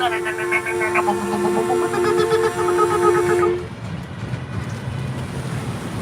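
An amphibious duck tour boat drives down a ramp into the Charles River in Boston. Loud cheering from passengers and a sustained horn-like tone fill the first half, then fade into a steady rushing wash of engine and water.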